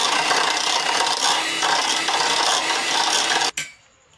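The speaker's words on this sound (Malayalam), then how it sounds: "ഇനി ഇതൊന്ന് നമുക്ക് നല്ലതുപോലെ ബീറ്റ് ചെയ്തെടുക്കാം." An electric mixer whirs at a steady, loud pitch as it beats cream with chocolate for a cake, then cuts out abruptly near the end, leaving quiet.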